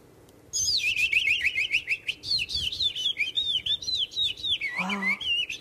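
A man whistles an imitation of a skylark's song in flight, a long run of rapid, trilling chirps and warbling phrases that starts abruptly and carries on close and loud, with a brief low murmur near the end.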